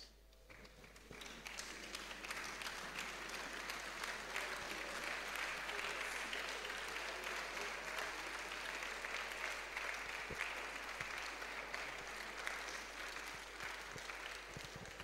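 A standing audience at a university zoology department valedictory programme gives sustained applause, dense overlapping clapping that swells after a quiet start and holds steady, with a low electrical hum underneath and faint crowd murmur.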